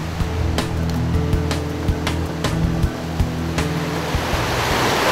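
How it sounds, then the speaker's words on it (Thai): Loud, continuous rushing of a large forest stream, a dense broadband roar close to the microphone with occasional light knocks and taps from handling. "เรามาถึงลำธารใหญ่แล้วนะครับเห็นไหมฮะ"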